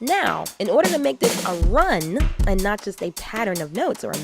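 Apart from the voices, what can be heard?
No distinct noise like a dog, phone or traffic.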